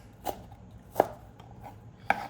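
A knife chops through an eggplant into chunks on a cutting board, three distinct thuds spaced roughly a second apart, quiet and close with no voices.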